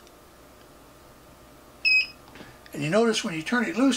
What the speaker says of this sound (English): it sounds a little bit longer beep